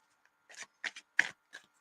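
Tarot cards shuffled by hand in short riffling bursts, four or five quick rustling flurries with brief pauses between, close and fairly quiet, no talking.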